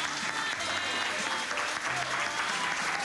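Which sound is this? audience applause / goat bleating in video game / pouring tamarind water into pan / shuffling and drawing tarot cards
audience applause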